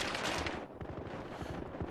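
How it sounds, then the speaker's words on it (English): Gunfire in the video game Battlefield Hardline: dense, rapid bursts of shots ring out continuously, loud and close, with no pauses between volleys. "Damn all these gunshots."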